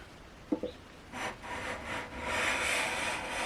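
Rhythmic scratchy rubbing strokes of sandpaper on a jazz guitar's wooden fretboard, close by, starting after a couple of small knocks and growing steadier toward the end.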